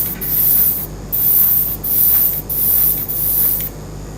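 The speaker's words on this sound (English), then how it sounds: "You guys notice that I'm rotating the part every time I spray" An airbrush sprays paint onto a rotated part in short, loud, close bursts of hissing air, five or so pulses separated by brief gaps.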